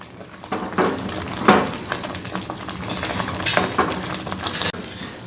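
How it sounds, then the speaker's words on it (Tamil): Rava upma cooking in a pan on low flame, with repeated scraping and stirring strokes against the pan over a soft, steady sizzle and bubbling, close and moderately loud, with no talking. "ரவை நல்லா வெந்து எல்லாத்தோட சேர்த்து நல்லா ஒரு கொதி வரட்டும்"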